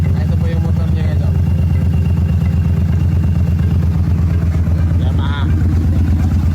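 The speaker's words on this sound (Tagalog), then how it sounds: "Ito po yung motor niya guys." Yamaha motorcycle engine idling and revving nearby, a loud, steady low rumble that continues throughout, with people talking over it.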